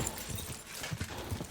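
Horse hooves galloping in Kingdom Come Deliverance 2, a steady rhythmic clip-clop of repeated thuds over a rushing background, fairly close.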